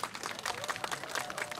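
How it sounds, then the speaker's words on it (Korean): Audience applause at a pumba gakseori street performance at Ilsan Beach in 2016: dense, steady clapping from a crowd, fairly distant, running for under two seconds with no talk. "전문적으로 박수 한번 쳐봐"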